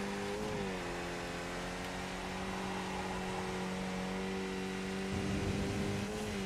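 Race car engines drone steadily from the iRacing sim, a sustained tonal whine that holds nearly level throughout with a slight pitch dip near the start, no talk over it.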